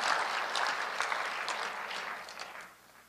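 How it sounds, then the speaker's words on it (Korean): A church congregation claps during a sermon, a short burst of applause that starts fairly full and then thins and fades away. "뭐 박수를 가끔씩 치세요"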